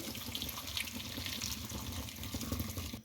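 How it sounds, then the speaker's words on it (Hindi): About a kilogram of milk pouring into a pan of carrot halwa, a steady broad liquid splash and gurgle lasting a few seconds at close range, then stopping abruptly, with no speech. "अब इसमें 1 किलो के करीब दूध वो डाल दें।"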